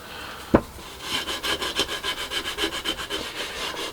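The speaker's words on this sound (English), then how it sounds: "And then that's pretty much ready to sand." Reclaimed timber, freshly repaired, is sanded by hand with steady back-and-forth rasping strokes, about a dozen rhythmic passes at close range after a single sharp knock near the start.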